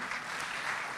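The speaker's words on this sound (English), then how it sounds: "Please keep clapping." Audience applause at the 18th COMESA Business Forum at KICC in Nairobi: a dense, even wash of clapping from a large hall crowd, heard alone without talk.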